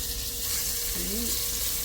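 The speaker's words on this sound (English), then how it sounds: "Now that the pan is lightly smoky, we'll go ahead and add half the meat into" Beef for beef stroganoff searing in a lightly smoking hot pan, a steady close sizzle of frying meat throughout, with a brief faint voice-like tone in the middle.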